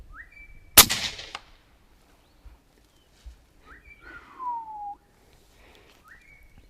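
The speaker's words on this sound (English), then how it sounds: "I take my time and I pull the trigger" A rifle fired while hunting cracks once, sharp and loud, early on, with a short decay after it. Faint birdsong whistles sound before and after the shot against quiet outdoor air.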